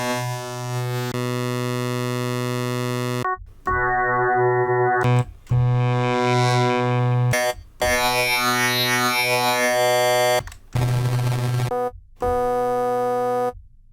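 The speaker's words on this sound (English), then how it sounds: "You also hear some distortion in it." A Korg modwave wavetable synth plays sustained distorted notes in a series of separate held tones, each buzzing and harmonically rich, cut off by brief silences, loud and alone.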